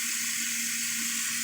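Tap water from a household sink runs steadily into a jar, a continuous close hiss of flowing water with no speech.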